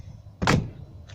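A vehicle door with a Titan Expedition heavy-duty roof rack fitted swings open and knocks against the rack bracket, one sharp close metallic thunk followed by a faint second bump, with no talking.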